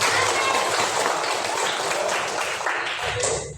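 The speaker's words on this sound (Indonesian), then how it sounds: "Tepuk tangan dulu untuk semua." A primary school class of children claps together in a classroom, a busy, fairly close patter of many small hands with voices mixed in, fading out at the very end.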